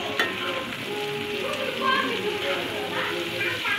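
Potatoes fry in a pan for aloo bhaji while being stirred, giving a steady moderate sizzle with soft scraping, under an indistinct voice.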